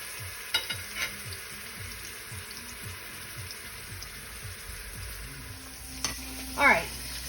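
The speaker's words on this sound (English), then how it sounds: "You can hear that nice sizzle." Pork chunks for carnitas sizzling and browning in a hot pan, a steady close fry with occasional stirring scrapes and a brief clatter near the end.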